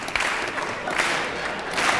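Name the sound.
audience applause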